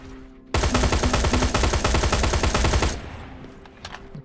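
Rapid automatic bursts from a plasma turret in the shooter game Terminator Resistance, a loud, dense stream of shots lasting about two and a half seconds before cutting off into quieter ambience.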